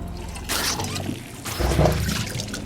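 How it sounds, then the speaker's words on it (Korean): Black water gushes from a faucet in the 2023 creature horror film The Tank, pouring and splashing in two loud surges with trickling in between. "그때 수도꼭지에서 나오는 검은 물"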